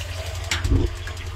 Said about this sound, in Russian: нужно открыть вот этот вот кран. И все, можно пользоваться вот этой вот лейкой